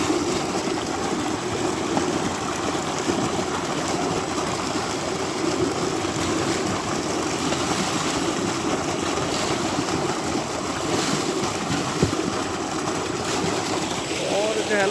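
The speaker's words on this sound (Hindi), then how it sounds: "ये हम पानी ले रहे हैं ताकि ये मोटर हमने चलाई है, इसमें पानी ले लेंगे पीने के लिए" A motor-driven water pump in a Punjab village in Pakistan fills drinking water, a steady, loud rush of flowing water and motor noise with a voice talking over it.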